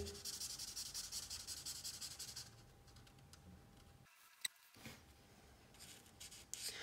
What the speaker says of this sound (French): Avec ça, on va colorier la bouche et les cheveux et le nez.